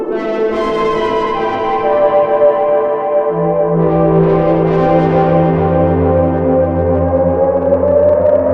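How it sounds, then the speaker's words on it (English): A Roland V-Combo VR-09 synth plays sustained, brassy chords through a tape echo delay, with the notes smearing into repeating trails. The tone grows louder and more layered partway through, with no voices. "using a tape delay, a tape echo delay."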